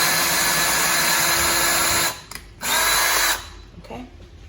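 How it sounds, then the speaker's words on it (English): A close power drill whirs steadily for about two seconds, pauses briefly, then runs again for about a second before stopping, pre-drilling screw holes for mounting window blind hardware. "and pre-drill the holes"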